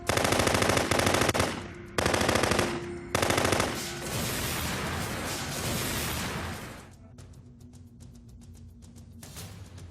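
Machine gun fire rips out in three sustained bursts, loud and close, each a rapid, dense stream of shots separated by brief gaps, then fading into a rumbling echo and a quieter low tail.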